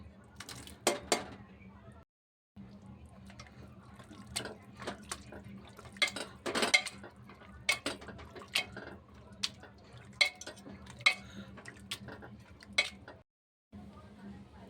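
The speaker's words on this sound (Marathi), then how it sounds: "आता याला मी मॅश करून घेते" Pressure-cooked pav bhaji vegetables are mashed in a pot with a masher. Irregular clanks, thuds and squelchy scrapes come up close, with one or two short pauses.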